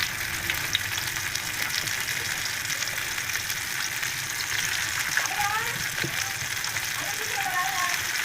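Fish fry slowly in a little oil in a pan with a steady, even sizzle that carries on without a break. Faint clinks sound now and then, and a voice can be heard quietly in the background.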